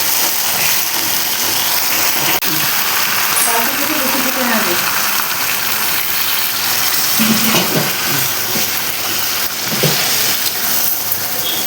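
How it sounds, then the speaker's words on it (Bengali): Water pours into a pan of chicken, moong dal and potatoes as they cook, making a loud, continuous rushing splash with a few clinks and scrapes mixed in. "এখন আমি এর মধ্যে জল দিয়ে দেবো।"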